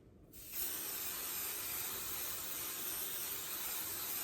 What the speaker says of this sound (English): And then I'm going to spray some